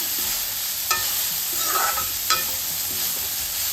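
Grated carrots for halwa stirred and roasted in a pan on a medium stove, a steady soft sizzle with a few scraping strokes of the spoon, close and alone.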